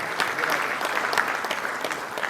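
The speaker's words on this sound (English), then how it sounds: "give them a round of applause" Steady applause from an audience at a national journalism awards ceremony, a dense continuous clapping that holds at an even level throughout with no pauses.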